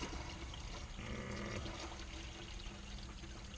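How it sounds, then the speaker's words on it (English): Spring water poured into the ice basket of a Whynter portable ice maker, a steady faint splashing pour with no talk. "you're gonna pour some spring water in it"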